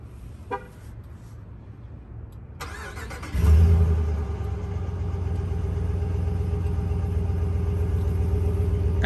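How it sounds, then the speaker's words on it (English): Engine of a 2021 RAM 1500 Rebel Night Edition pickup starting by remote: a faint chirp and click first, then the engine cranks and catches with a loud burst and settles into a steady, close idle rumble. "pressing this twice will remote start the truck"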